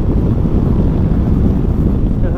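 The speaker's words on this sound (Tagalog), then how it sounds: "Ang lakas ng hangin." Loud, steady wind roar buffeting the microphone while riding a Kymco Xciting VS 400 scooter at speed on an expressway, a dense low rumble with no pauses and no voices.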